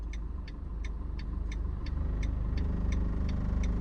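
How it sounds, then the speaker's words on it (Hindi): Diesel car pulling away directly in second gear, engine labouring with a low, steady vibrating drone and a rapid rhythmic throb, heard close from inside the cabin without talk. "वाइब्रेशन में आ रही गाड़ी, क्यों, क्योंकि सेकंड गियर में मैंने उठाया है"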